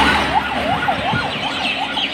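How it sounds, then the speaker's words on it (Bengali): An ambulance siren wails in a fast rising and falling pattern, fairly close and loud over road traffic rumble on a bridge over the Gorai river at Kamarkhali. "দেখুন ওই কোনো রকম দেখা যাচ্ছে আর কি একটি অ্যাম্বুলেন্স।"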